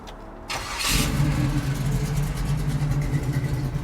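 A 1968 Camaro engine cranks briefly, then catches and settles into a deep, steady idle rumble, close by and fairly loud, with no talking.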